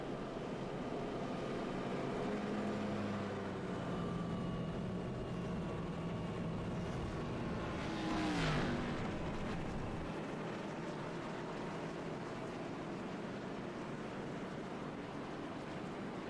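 ARCA stock cars racing at Nashville Fairgrounds, heard as a steady roar of engines at moderate distance, with one car swelling past and dopplering down midway.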